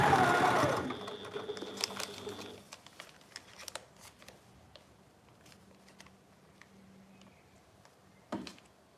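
Sewing machine stitching a half-inch seam on a fabric project bag, a loud steady motor whir at first, then slower, quieter stitching with scattered clicks and ticks, close and without talk.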